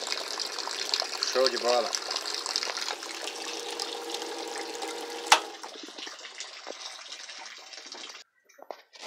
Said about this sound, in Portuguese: E a água caindo aí, né? Saindo aqui, ó.